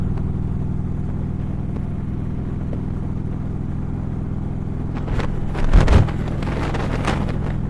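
A car cruises at highway speed, about 65 to 70 mph, with a steady low engine and road drone plus wind rush, swelling briefly with a louder buffeting gust midway.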